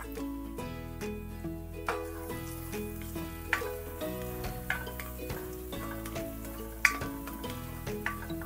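Onion sautés with browned garlic in a pan for caldereta, a soft continuous sizzle with occasional utensil ticks, under steady background music.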